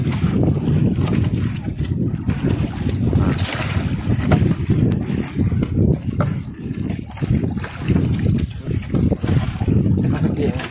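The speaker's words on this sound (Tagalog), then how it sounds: "Hangin." Strong wind buffets the microphone in steady low roaring gusts outdoors on a boat during traditional squid fishing, with faint voices partly buried beneath it.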